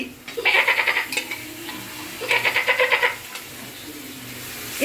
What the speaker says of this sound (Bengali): এটা হচ্ছে খাসির ডাক